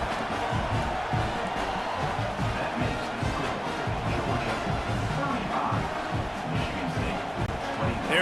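Subdued football stadium crowd murmuring and stirring after a Georgia extra point against Mississippi State, a steady wash of distant crowd noise with speech mixed in.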